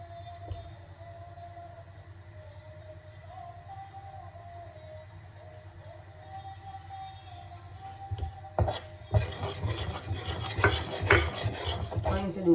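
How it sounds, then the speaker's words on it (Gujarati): Flour is tipped into hot ghee in a pan and stirred for the Gujarati sweet sukhdi, a scraping, rasping stir that starts partway through and continues over a steady low kitchen hum. "ઘી ગરમ થઈ ગયું છે એટલે લોટ એડ કરી દઈએ."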